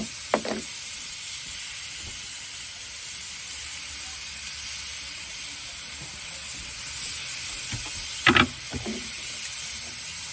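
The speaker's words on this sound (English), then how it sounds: "Try to get this end of it seared." Tri-tip steak searing on a Big Green Egg grill gives a steady hiss and sizzle throughout, with a couple of brief louder scrapes or clanks near the start and toward the end.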